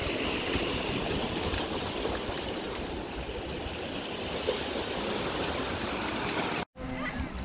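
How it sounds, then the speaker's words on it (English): A river near Winnifred Beach in Portland, Jamaica rushes in a steady, broad wash of flowing water, close and continuous, briefly cut off near the end before resuming. "this is the river where you wash off when you're finished"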